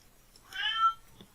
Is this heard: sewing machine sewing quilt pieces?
no